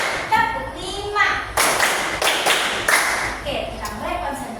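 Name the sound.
class clapping a counting clap rhythm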